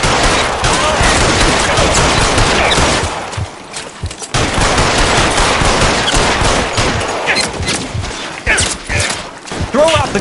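Loud, sustained gunfire in L.A. Noire, a crime game set in Los Angeles, with bursts of rapid shots and fusillades that briefly thin out midway, then resume under faint shouted voices.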